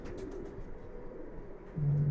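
A male high-flyer pigeon about three and a half years old coos softly at close range, with a steadier, louder hum of the call near the end.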